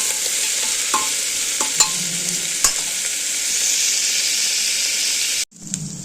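Soybeans and mixed vegetables for masala khichdi fry in a pan, a steady hiss broken by several sharp spoon knocks and stirring scrapes, close and fairly loud, before an abrupt cut near the end.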